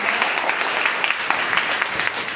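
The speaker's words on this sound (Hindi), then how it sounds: "तो अगेन एक बार आप सभी लोग अपने खुद के लिए ताली बजाएं।" A seminar audience in a hall claps steadily, a dense wash of many hands at moderate loudness with no talking over it.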